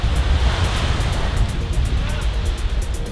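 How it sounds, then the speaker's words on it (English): Surf and breeze at a Batangas beach make a loud, steady wash of breaking waves and wind buffeting the microphone, with a voice speaking over it. "you can really feel the breeze, hear the ocean"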